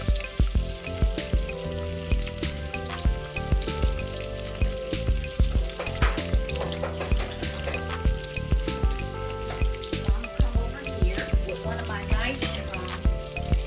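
Chopped onions frying in bacon grease in a pan, a steady loud sizzle with frequent scraping and clinks from a wooden spoon stirring throughout, no voices.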